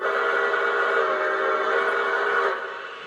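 A steady, shrill Polar Express model train whistle with several layered tones sounds continuously, close and loud, then tapers off slightly near the end.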